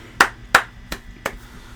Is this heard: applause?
yes